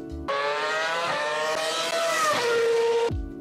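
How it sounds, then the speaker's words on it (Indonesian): A 2008 Formula 1 racing car with a V8 engine screams at high revs, its loud harmonic whine stepping through gear changes and dropping in pitch near the end before stopping sharply. "Kemudian ada mesin V8 tahun 2008."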